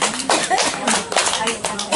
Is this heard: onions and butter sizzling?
no